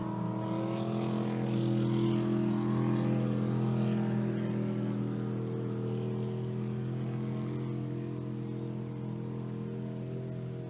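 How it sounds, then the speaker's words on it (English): Racing boat engines at a spring classic boat race drone and whine across the water, a steady mid-distance roar that swells and then eases slightly, with no talk over it. "Can you guys hear the boats?"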